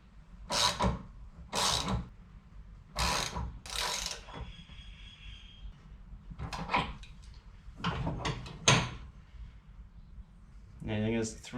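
A metal fitting is jammed into an air ride line and worked down on a 1951 Chevrolet Fleetline, giving repeated short ratcheting clicks and scraping bursts at close range, with gaps between them.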